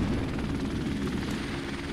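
A helicopter in Call of Duty: Modern Warfare Remastered drones with a loud, continuous low rotor roar and engine rumble, close and steady for two seconds with no speech.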